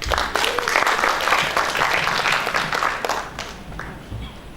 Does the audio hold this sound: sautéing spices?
no